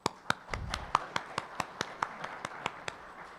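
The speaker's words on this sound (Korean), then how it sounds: "박수 부탁드립니다." A single person claps steadily at an opening ceremony of a smart construction safety forum, about fifteen crisp, evenly spaced claps, fairly quiet with a faint murmur in the room.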